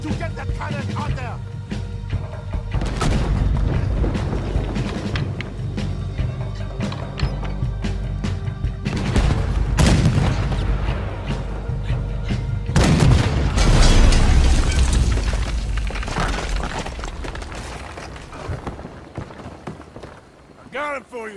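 Cannon fire and explosions in the Red Dead Redemption 2 video game, heavy booming blasts and crackling bursts over a dense battle din, with people talking throughout.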